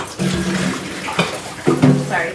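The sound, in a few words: water spilling from a jar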